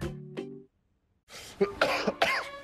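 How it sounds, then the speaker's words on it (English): A few sharp, close coughs in quick succession after a short hum and a brief pause of silence. "This cough."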